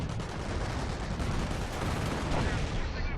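Artillery shells crashing down in a tank battle video game, a dense, continuous roar of blasts and rattling gunfire filling the whole moment at close, loud range.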